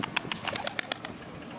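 A pigeon taking off from a reservoir dam top, a quick series of close wing flaps, each a soft rhythmic whoosh that fades after about a second.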